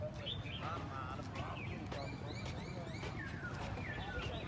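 Birds chirping in a park in North Vietnam, bright tweets and short calls scattered over steady background noise, moderately close, with no one talking.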